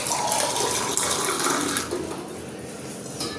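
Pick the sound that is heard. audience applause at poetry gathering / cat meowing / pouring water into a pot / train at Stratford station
pouring water into a pot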